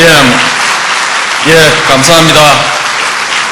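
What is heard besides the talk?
applause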